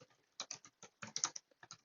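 Keys clatter on a computer keyboard while text is entered into a CryptPad document, a quiet, close series of uneven taps in short bursts with brief pauses between them.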